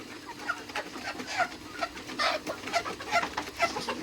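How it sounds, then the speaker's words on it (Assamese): Local chickens on a farm in Dhemaji, Assam, clucking in short, scattered calls that repeat across the stretch, moderately near and mostly on their own. "লোকেল মুৰ্গী আছে মোৰ"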